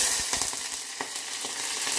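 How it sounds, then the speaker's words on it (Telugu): Mustard seeds in hot oil give a dense steady sizzle with scattered small crackles and pops, close and continuous with no voices. "ఆవాలు వేస్తే చిటిచిట అనాలి."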